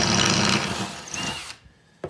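An Einhell TE-CD 18 Li-BL cordless drill fitted with an 8 mm bit whirs loudly for about a second and a half, its motor pitch sliding as it winds down, followed by silence and a brief knock.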